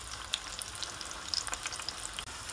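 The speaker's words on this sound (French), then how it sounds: "dans de l'huile d'olive, on va faire griller les aubergines des deux côtés" Eggplant slices, cut 2-3 cm thick, frying in olive oil in a pan, giving a steady close crackling sizzle with scattered sharp pops and spits throughout.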